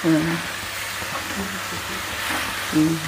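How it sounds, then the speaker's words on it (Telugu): A kilo of chicken fries in oil with turmeric, a steady sizzle and hiss that rises as pieces are stirred, while a person speaks intermittently over the cooking. "అలా వేగుతుంది అనమాట. ఇలా వేపాలి. ఇలా మనం తిప్పుకుంటూ ఉండాలి."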